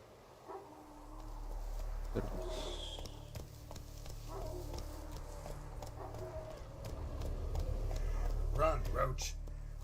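Roach, Geralt's horse in The Witcher 3, runs with muffled hoofbeats under a low rumbling game soundtrack, moderately quiet and partly masked, while a narrator speaks over it.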